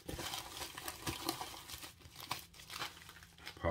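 Paper envelope from a trading-card mail delivery crinkling and tearing as a card is worked out of it, a close, continuous run of rustles and rips for several seconds with no talking.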